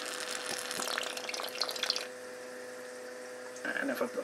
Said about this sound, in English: it's sort of got the drumming effect on the sink there